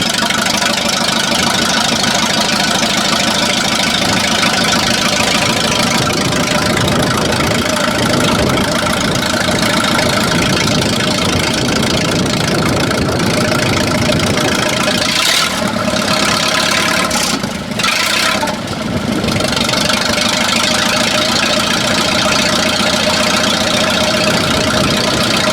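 A Minneapolis Moline tractor engine idles steadily and loudly up close, a continuous rumbling drone that holds for the whole stretch, with a few brief knocks and dips midway.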